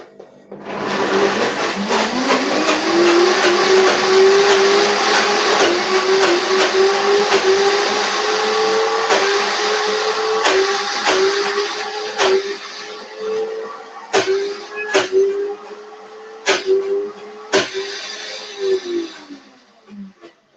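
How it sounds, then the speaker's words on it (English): High-powered 9200A blender pulverizing dense almond feta and cookie ingredients while a tamper pushes them down, a loud continuous whirring roar with a slowly rising motor pitch and repeated knocks from the tamper against the jug. "you want to make sure that you are pushing from the sides of the blender, from the corner of the jug, making sure that all the ingredients get pushed down and blend"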